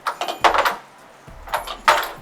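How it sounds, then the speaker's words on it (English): Metal keys clinking and jangling as a third key flips other keys into a cup, several clattering bursts close up with a quiet pause between them. "you pick up the 3rd key, and you have to flip the keys into the cup using the 3rd key."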